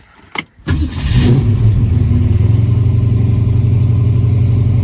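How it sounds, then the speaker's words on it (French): A 1965 Ford Mustang Fastback engine cranks briefly, catches and settles into a loud, steady, rumbling idle on the choke, heard up close with no voices. "Je la laisse tourner un petit peu au starter."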